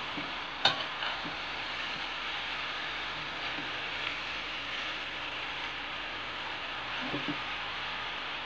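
Kangkong (water spinach) and cabbage stir-frying with black beans in a pan: a steady, moderate hiss of sizzling vegetables runs throughout, with a few faint utensil taps and scrapes.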